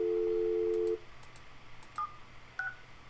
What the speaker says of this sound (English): let's try our phone number again